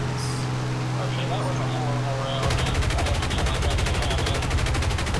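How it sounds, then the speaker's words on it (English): Rapid machine gun fire from an aircraft in the War Thunder video game breaks out midway, a loud, continuous rattling burst that follows a steady engine drone. "Now I got full machine guns."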